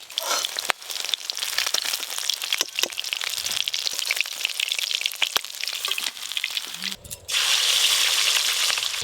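Pieces of fish belly crackle and sizzle steadily in hot oil, a dense frying hiss that continues throughout and swells louder near the end.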